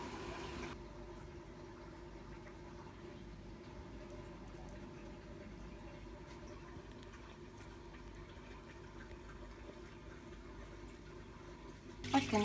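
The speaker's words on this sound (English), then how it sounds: "as you can see there's quite a nice steady flow of water coming out" An air-pump-driven DIY aquarium sandfall keeps water flowing steadily, a faint, even bubbling hum that holds constant throughout, ending with a brief louder knock.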